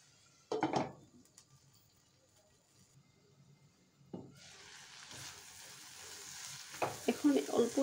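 Tomatoes and ground coriander stirred in a frying pan for a Bengali chapila fish dish, with sharp spatula scrapes early on, then a rising hiss of frying that builds and swells with more stirring toward the end.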